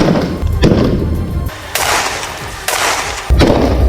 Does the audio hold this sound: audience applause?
no